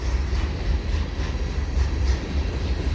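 A CP freight train led by a heritage SD70ACU locomotive rolls past on a November afternoon, a steady, loud low rumble holding evenly throughout with no talk.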